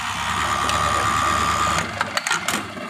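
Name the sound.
buttonhole sewing machine stitching a buttonhole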